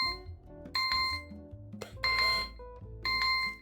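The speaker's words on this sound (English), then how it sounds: "Your alarm's going off." An electronic alarm chimes in repeated bursts of bright ringing tones over a low, steady background, sounding loud and near, with pauses between the bursts.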